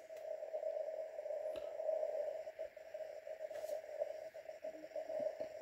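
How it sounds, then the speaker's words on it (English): A faint steady amateur radio station tone received on a uSDX transceiver hums through background static and hiss, with occasional soft clicks, distant and continuous. "Here you can hear the station I tuned in."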